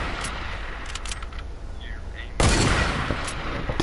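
Gunshots in the military shooter game Squad, with faint distant reports at first, then a sudden loud close burst of fire partway through that stays dense and heavy to the end.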